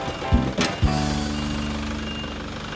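A green drill bit grinds into material with a loud, steady mechanical hum that holds continuously after a few short starts, close to the listener.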